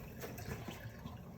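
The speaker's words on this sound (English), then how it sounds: "Let me wash my fingers." Tap water runs steadily as fingers are rinsed in a kitchen sink while preparing roast pork, a brief close, even rush of liquid.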